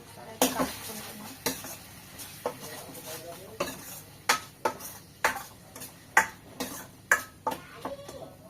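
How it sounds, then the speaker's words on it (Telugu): A spoon stirs chilli powder through a Telugu-style vegetable curry in a metal pan, giving a steady series of close scraping, clinking strokes over a faint sizzle, with no voices. "కారం వేసి ఒకసారి అయితే కలుపుకుంటున్నాం"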